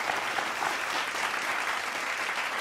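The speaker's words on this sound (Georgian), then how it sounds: "აპლოდისმენტები ამ ყველაფერს" A studio audience on a Georgian talk show claps in a steady, full burst of applause that fills the room evenly and holds at the same level throughout.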